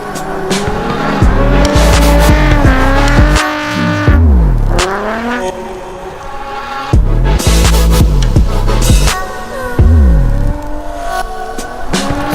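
Race car lapping a wet track, its engine loud and close, revving high then dropping through gear changes, with repeated surges of acceleration and brief lifts between passes and no talk.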